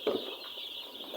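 Broiler and noiler chickens cluck and chirp softly in a pen, a brief, faint mix of calls over a steady background hum.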